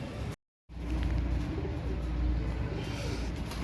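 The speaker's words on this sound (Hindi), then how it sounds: "ये वो कबूतर हैं जो इज़्ज़त दिलाते हैं।" Imam Deen pigeons coo softly amid a dense low murmur of background noise, after a brief dropout of silence near the start.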